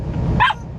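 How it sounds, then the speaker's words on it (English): A single dog bark with a sharp, high squeak from a squeaky toy the dog is sitting on, sounding at the same moment, over low background rumble. "So every time he barks, it was squeaking with his bark."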